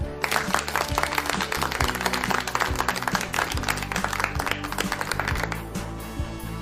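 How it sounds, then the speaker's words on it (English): Dense applause on a school radio program, many hands clapping rapidly and loudly for several seconds with no voices, tapering slightly at the end. "please give yourselves a big round of applause."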